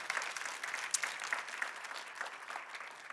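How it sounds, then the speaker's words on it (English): A church congregation claps in a soft, far-off wash of scattered hands, faint and steady throughout, with no voices standing out. "You can clap for that."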